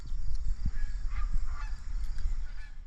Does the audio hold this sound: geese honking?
yes